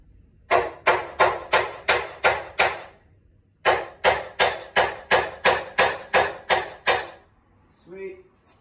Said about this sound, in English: I need a really hard surface to hammer so that it'll flatten out.